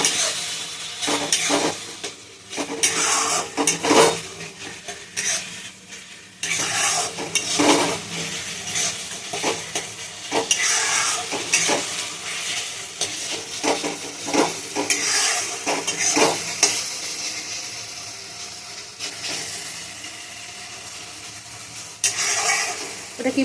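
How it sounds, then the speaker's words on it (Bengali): Chicken curry being sautéed with spices in a pan on low heat: continuous stirring scrapes and clanks of utensil against metal over a steady sizzle, loud and close throughout. "এবার এটাকে ভালো করে কষাতে হবে।"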